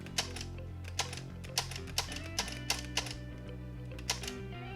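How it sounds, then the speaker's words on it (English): A Nerf claymore's remote detonator button clicks sharply and repeatedly, about a dozen crisp, close clicks at an uneven rhythm over a low steady hum, with no talking. "when I press the detonator, it's going to make a click."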